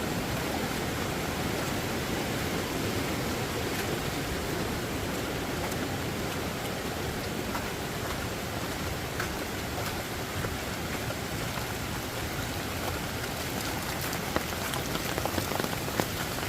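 Heavy rain at a farm during a downpour pours steadily, with water rushing down a drainage ditch, a dense, loud, unbroken hiss throughout and no talking.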